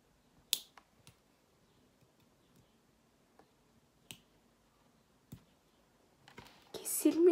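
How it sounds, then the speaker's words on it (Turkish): Sharp, isolated clicks of nail clippers cutting very short fingernails, a handful of snaps spaced irregularly, close and fairly loud, with a burst of rustling at the end. "Şimdi tırnaklarımı kesmeye çalışıyorum."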